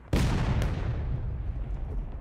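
A single heavy gun shot goes off in the war game Generals at War, a sudden loud boom followed by a long rumbling decay that fades over about two seconds.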